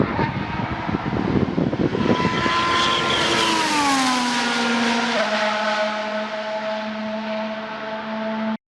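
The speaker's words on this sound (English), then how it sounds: "From there, I spotted Colapinto as he exited the pits." A Formula 1 car leaves the pits at Monza during an Alpine and Williams test on hard tyres, its loud, high engine whine sustained and then sliding lower in pitch as it pulls away, with no voices.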